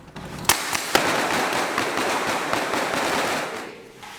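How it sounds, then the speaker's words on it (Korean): Gunfire rings out during ROK-US special forces building-clearing training at human-shaped targets, with two sharp shots early on, then sustained dense rattling that fades toward the end. "각방을 샅샅이 수색하고 사람 모형 표적을 향해 총탄을 발사합니다."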